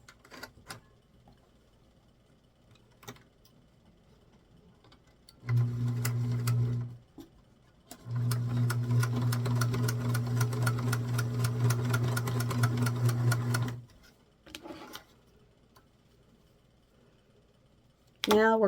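A sewing machine stitches across the crotch seam of an 8-inch doll garment, running in two loud, steady bursts: a short one, then a longer run of about six seconds, separated by pauses with faint handling clicks.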